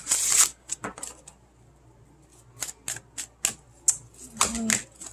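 Tarot cards are shuffled in short crisp bursts of riffling and snapping, close and fairly loud, with brief pauses between and a voice speaking now and then.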